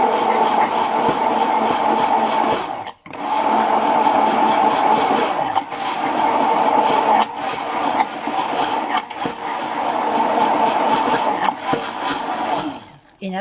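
A blender whips garlic lactonesa, a milk-based emulsion sauce, in a steady, loud, close whirr that runs almost continuously, with one brief break early on and small dips in the motor drone.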